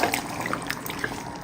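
Boiling water poured into mutton cooking in a pot, a brief close trickling and splashing pour that runs continuously for a moment with no voices.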